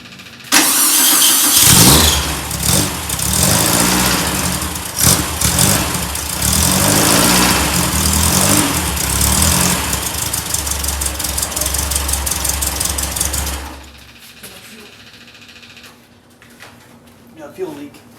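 A 1965 VW Beetle engine cranks, catches and runs loud and rough with throttle blips for about twelve seconds before cutting out, as people talk over the clattering exhaust.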